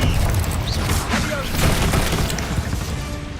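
Loud, dense explosive blasts from a Confringo spell in Hogwarts Legacy, a sustained rumbling roar of booms and crashing debris with no clear pauses.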